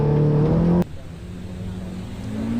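A Peugeot 106 race car, number 12, runs at Mallory Park during practice, its engine note droning loud and close before dropping abruptly to a lower steady hum that slowly rises again.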